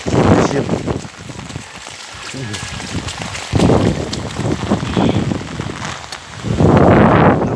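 Steady heavy rain hisses loudly throughout, with bursts of louder downpour and a voice talking over it at times.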